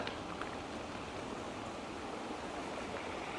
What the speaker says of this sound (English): just got the sound of water